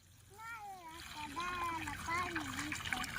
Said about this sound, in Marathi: नारळाच्या झाडाला पाणी देतोय